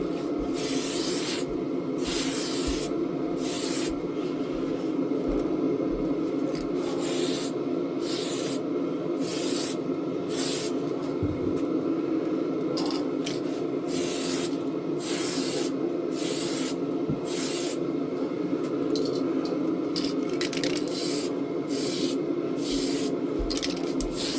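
Spray paint hisses in repeated bursts onto a slot car body, short blasts separated by brief pauses over a steady background hum, close and fairly loud, with no talking.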